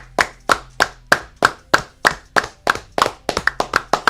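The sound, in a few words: clapping for a super chat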